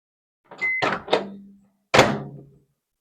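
Microwave oven in a home being worked: a quick beep, door clunks and handling knocks, a short low hum, then a final loud thunk, all close by with no talking.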